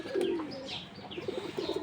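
Pigeons in a loft coo softly and repeatedly, with low, throaty calls close by and faint rustling behind them.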